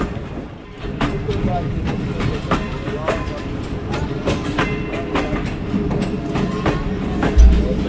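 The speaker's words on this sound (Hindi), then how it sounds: "और ट्रेन ने भी स्पीड कम कर दी है" The Allama Iqbal Express, running from Sialkot to Lahore, slows on its approach to Pasrur station. Steady rumble carries evenly spaced wheel clicks that recur through the ride, with a brief heavier thump near the end.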